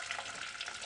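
Boiling water poured into a Yoomi self-warming bottle warmer, a brief, faint, steady hiss of running liquid.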